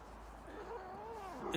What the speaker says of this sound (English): I'm about to get visited by a cat